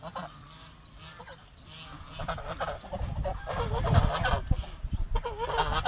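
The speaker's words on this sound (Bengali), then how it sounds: "এদিকে প্রতিটি বাড়িতে রাজহাঁস পালন করা হয়।" Domestic geese honking beside a village river, a cluster of loud, overlapping nasal calls that builds and grows busier toward the end, heard over a low outdoor background.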